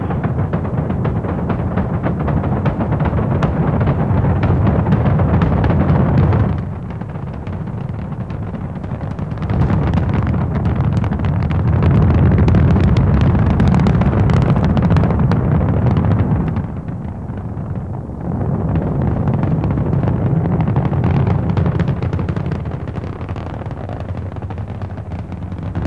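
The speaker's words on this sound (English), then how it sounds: "All engines running. Commit. Liftoff. We have liftoff at 11 a.m." The Apollo 9 Saturn V rocket lifts off with a continuous, deep, heavy roar that stays loud for nearly half a minute. The rumble crackles and surges in waves, with some wind buffeting the microphone.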